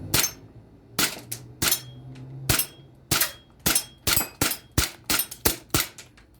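Crosman P1 air pistol shooting semi-auto, a dozen sharp snapping shots at a quickening uneven pace, close and clear with no talk.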